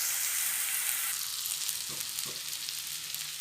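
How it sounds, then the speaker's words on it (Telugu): Onions frying in tempering oil in a pan, giving a steady, close, continuous sizzle with faint crackles and no talk. "చూడండి, ఆనియన్స్ అయితే మంచి బ్రౌన్ కలర్ వచ్చేంత వరకు సిమ్లో పెట్టుకోవాలండి."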